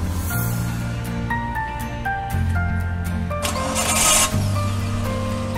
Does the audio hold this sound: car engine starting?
yes